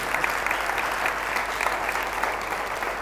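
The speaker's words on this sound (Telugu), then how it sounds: "ఇద్దరికి అర్థమైంది, చప్పట్లు కొట్టండి." A church congregation bursts into dense, steady applause during a pastor's sermon, many hands clapping together for the full three seconds, close and evenly loud with no voices on top.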